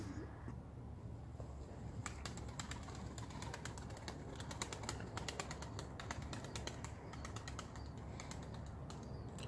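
Pigeons cooing at a loft during competitive racing-pigeon flights, with soft repeated coos over a steady low background and scattered sharp clicks, wing flaps and faint rustling throughout.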